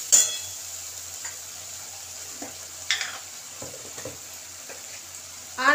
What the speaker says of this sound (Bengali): এবার ভালো করে কষিয়ে নেব মশলাটাকে।